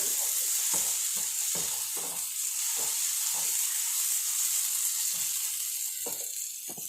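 Pumpkin mezhukkupuratti stir-fry sizzling in a pan, a bright continuous hiss up close with soft intermittent stirring clicks and scrapes.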